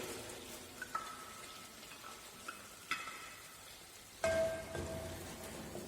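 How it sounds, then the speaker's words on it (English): Eight to ten garlic cloves dropped into simmering smooth garlic soup in a pan: a steady soft sizzle with a few small taps, then a louder burst of frying as more go in, close by. "So now I am adding garlic into it, round about 8 to 10 cloves."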